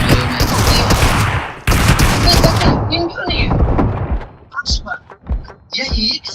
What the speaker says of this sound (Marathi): त्याने गन काढून मला मारलं.